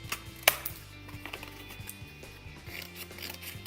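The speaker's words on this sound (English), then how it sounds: "So again, we'll use the scissors" Scissors cutting open packaging for Kmart Australia makeup and accessories, quiet snips and crinkling with one sharp click near the start, followed by soft irregular cutting sounds.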